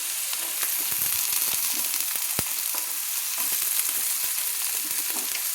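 Cut, washed potatoes fry in mustard oil over a low gas flame, giving a dense, continuous sizzle with scattered pops and crackles, close and fairly loud.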